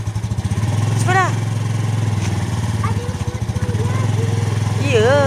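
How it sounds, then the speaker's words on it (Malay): A motorcycle engine idles steadily nearby, a low rumbling drone that runs under several excited voices talking and calling out. "Jom, naik motor cepat."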